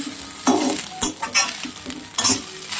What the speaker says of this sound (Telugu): ఆమ్లెట్ వెజిటబుల్స్ అవి కలుపుకుందాం మనం మంచిగా.